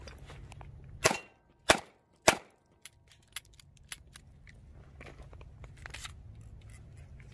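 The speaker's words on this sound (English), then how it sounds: "go see how many shots we can get off before it jams" A Taurus G2C pistol with an extended magazine fires three loud, sharp shots about half a second apart, followed by quieter metallic clicks and handling rattles as the gun jams.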